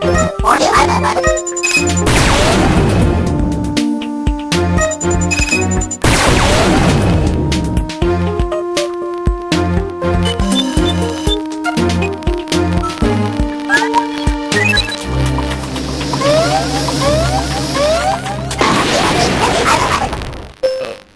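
Arwing missiles launching and exploding in Star Fox Command on the Nintendo DS, several loud booming blasts with whooshes and chimes punctuating a busy game soundtrack, each burst swelling and fading.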